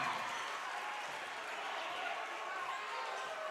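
A home crowd of Flyer fans at a high school basketball game between Dixie and Bountiful cheers and applauds loudly and steadily after a game-tying three-pointer.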